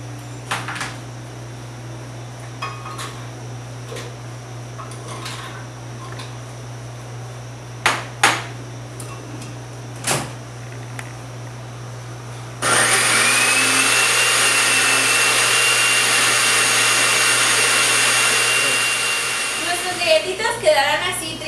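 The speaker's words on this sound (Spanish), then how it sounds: "Y ahora las vamos a meter a la licuadora para triturarlas." A blender grinds cookies for a tart, starting abruptly after a quiet stretch of small kitchen clicks and then roaring steadily and loudly for several seconds before winding down.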